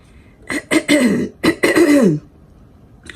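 A person clears their throat harshly several times in close succession, rough raspy bursts with a short cough mixed in, then goes quiet.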